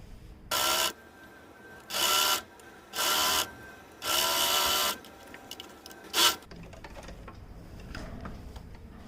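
Sewing machine stitching an Afghani salwar, four or five short loud whirring bursts separated by pauses, followed by quieter handling noise.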